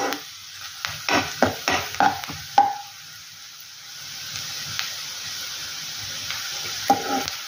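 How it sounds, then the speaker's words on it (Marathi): Onions with curry leaves sizzling in a pan on a medium flame for a Maharashtrian tomato chutney, with several close spoon stirs and clinks early on over a steady soft frying hiss. "आता गॅसची फ्लेम आपण मध्यम ठेवून छानपैकी हा कांदा परतून घेणार आहोत."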